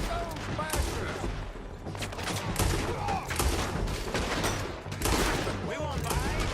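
Dense gunfire shootout in a town in Red Dead Redemption 2, rapid overlapping shots and cracks in irregular bursts, loud and continuous with shouting voices mixed in.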